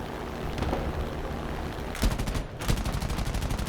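Rapid machine-gun bursts ring out in War Thunder as a P-47 fighter strafes a tank: a dense, loud rattle under engine roar, then two sharp, fast-stuttering volleys near the end.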